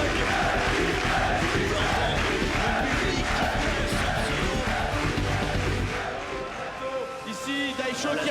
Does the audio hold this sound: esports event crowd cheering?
yes